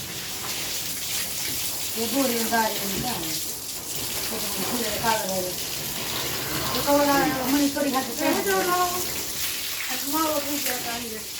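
Water gushes steadily from a pipe in a constant rushing stream while a person talks over it.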